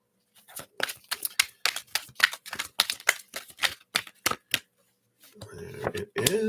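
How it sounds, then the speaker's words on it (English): A deck of oracle cards is shuffled by hand, a run of quick, crisp riffling snaps in uneven bursts, close and fairly loud, with a short break before fuller rustling and handling noise at the end. "Let me just shuffle these up."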